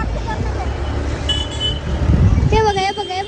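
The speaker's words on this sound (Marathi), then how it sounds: "बघा किती ट्रॅफिक आहे यार" Road traffic at Dange Chowk with car horns, engines rumbling close by and several horn toots near the end, under someone talking.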